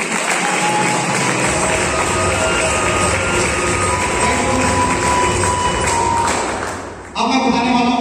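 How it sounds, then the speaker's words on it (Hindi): An audience at a multi-level-marketing business talk claps loudly for about seven seconds, a dense wash of hand-clapping that cuts off abruptly, leaving a brief tonal sound after. "एक बार शानदार ताली हो जाए।"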